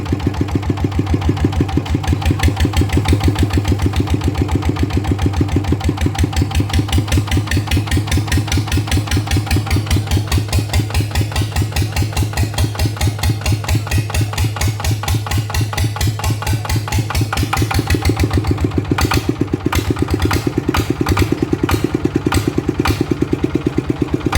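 A motorcycle with a short can-style exhaust and a compression fault runs close by with a loud, rapid, steady putter, its exhaust pulses sharpening near the end as it revs slightly.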